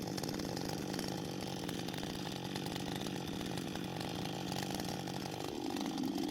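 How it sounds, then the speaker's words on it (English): A chainsaw roars continuously at close range, its engine straining steadily as it cuts through frozen wood. "The blade digs deeper like steel claws shredding through the frozen wood."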